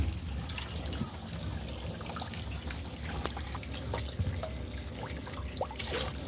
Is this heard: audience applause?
no